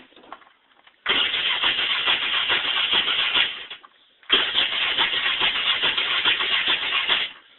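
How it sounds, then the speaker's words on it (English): A 2006 Polaris Hawkeye ATV engine cranking without choke in two long starter bursts, each a few seconds of loud grinding whir separated by a short pause, without firing. "See if it'll fire up with no choke."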